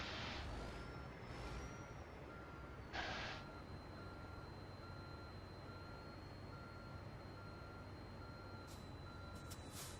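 Tractor-trailer backing into a loading bay in American Truck Simulator, with steady repeating reversing beeps over a constant engine drone and a short hiss of air brakes.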